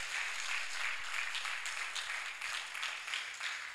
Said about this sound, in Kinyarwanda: Reka tuyikomera amashyi menshi.